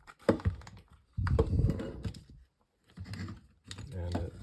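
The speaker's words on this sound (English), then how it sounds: "Break that seal." Plastic packaging on a Pittsburgh 9-piece combination wrench set is cut and broken open in several bursts of crackling, thunking handling noise, close, with talk over parts of it.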